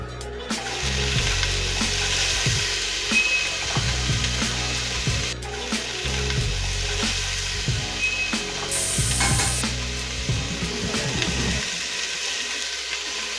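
Onions sizzle loudly in a pan holding leftover pork rib fat and no oil, with steady frying hiss and several scraping stirs, then the sizzle drops away near the end.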